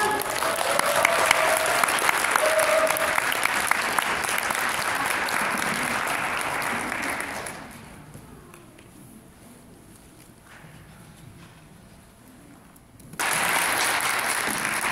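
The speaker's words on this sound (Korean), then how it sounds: "큰 박수 부탁드리겠습니다" Loud, dense audience applause welcoming a seminar speaker fills the first seven seconds or so, drops to a quieter lull for about five seconds, then swells back to full strength at the end.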